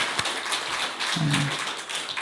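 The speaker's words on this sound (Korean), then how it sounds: "자, 환영의 박수 한번 하겠습니다." Church congregation claps briefly to welcome a newcomer at a Sunday service, a soft scattered patter of hands in a reverberant hall with a short hum of voices.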